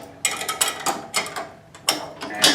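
Bolt on a Chamberlain C450 garage door opener arm bracket being tightened with lock washers, giving a series of close, sharp metallic clicks and ratcheting bursts in uneven groups.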